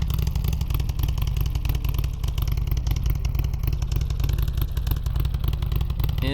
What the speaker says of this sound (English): I'll go park my bike.